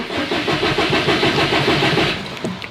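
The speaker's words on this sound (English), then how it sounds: "I'm gonna go ahead and try to start it one more time." A Subaru STI engine cranks repeatedly without catching, a close, steady rhythmic whirring churn that lasts throughout and stops abruptly near the end.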